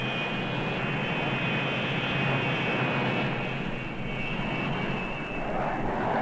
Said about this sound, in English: The bombers can be accelerated into the air from a standing start at the rate of 1 every 15 seconds